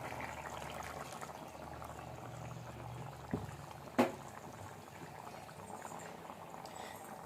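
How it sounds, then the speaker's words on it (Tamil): Chickpea curry (kadala curry) bubbling in a pot, a soft steady boil with low gurgles, plus a faint knock and a sharper clack near the middle, no talking. "இப்போ நம்மளுக்கு வந்து கடலைக்கறி நல்லா கொதிச்சிட்ருக்கு"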